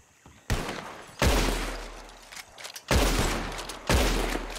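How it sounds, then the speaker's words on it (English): Gunshots from shooting bottles in Red Dead Redemption 2, four loud, sharp reports spaced about a second apart, each with a booming tail, with faint sounds in between. "whoever shoots the most bottles wins"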